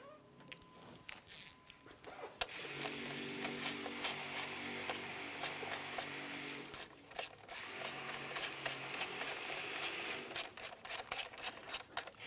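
Ratchet tightening the bracket nuts on a crankshaft position sensor of a 2001-2005 Honda Civic, quick rasping clicks in bursts close by, with short pauses between runs.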